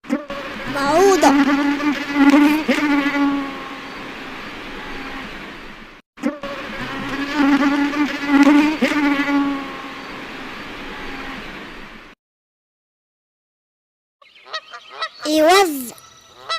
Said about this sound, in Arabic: بعوضة.